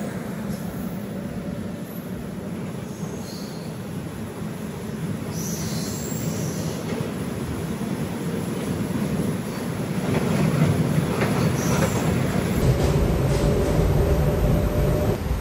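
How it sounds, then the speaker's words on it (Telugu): A goods train rolls past on the adjacent track, a continuous loud rumble of wheels and wagons with metallic squeals, heard from aboard a moving MEMU passenger train, growing slightly heavier toward the end. "మన పక్క ట్రాక్ లో చూసుకోవచ్చు గూడ్స్ ట్రైన్ అయితే వస్తుంది"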